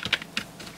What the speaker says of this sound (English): USB keyboard, number keyboard.